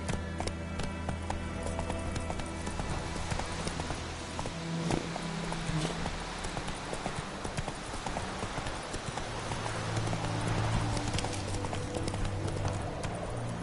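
Roach the horse galloping in the video game The Witcher, rapid rhythmic hoof clip-clops running steadily over a game soundscape for the whole stretch, moderately loud.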